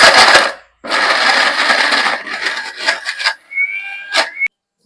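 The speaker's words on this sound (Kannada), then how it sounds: "ಗ್ರೈಂಡ್ ಮಾಡ್ಬೇಕು" Jackfruit with soaked rice whirring in an electric mixer grinder, no water added, for a fried jackfruit dish; loud close bursts of grinding broken by brief pauses, ending in a rising whine and stop.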